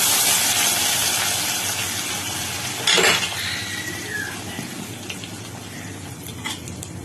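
A steady hiss of liquid pouring with a brief sizzling splash near the middle as hot tempering is poured into boiled coconut milk payasam, then quieter bubbling and faint clinks of a pan.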